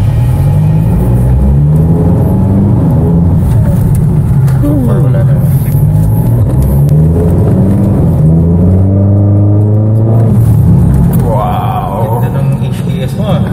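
Mitsubishi Triton engine revving through a DZ Racing aftermarket exhaust after a remap and intercooler piping work, a deep rumbling idle rising in repeated blips, with people talking over it nearby.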